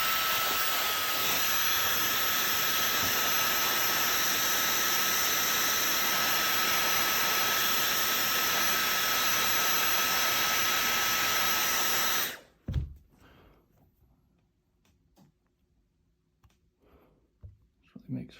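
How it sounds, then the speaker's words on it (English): A hairdryer blowing hot air onto a dbrand skin on an iPhone 12 Pro Max, a loud steady close whooshing roar that shuts off, followed by quiet handling clicks. "hit it again with the hairdryer."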